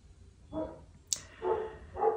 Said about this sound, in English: I apologize for my dogs and the noise.